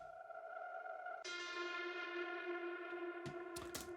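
A piano sample drenched in heavy reverb and distortion, played in reverse as a transition in an electronic remix, with sustained tonal harmonics swelling and brightening midway before choppy bursts near the end, heard alone.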